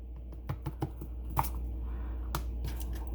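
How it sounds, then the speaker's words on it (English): A garlic clove rolled inside a garlic peeler on a kitchen counter gives a run of small, close, dry rustling clicks and rubs, irregular and fairly quiet, with no talking. "And then all I do is I roll it. And it's going to take the peel right off."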